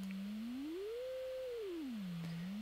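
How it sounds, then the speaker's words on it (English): A pure, smooth synthesizer sine wave tone glides up in pitch, holds, then slides back down, steady and clean with nothing else around it. "So a sine wave would be this kind of sound here"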